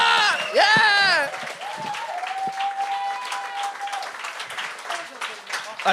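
Applause and cheering from a game-show studio crowd greet comedian JF Provençal. A loud shout opens the burst, and the clapping continues under a long held voice.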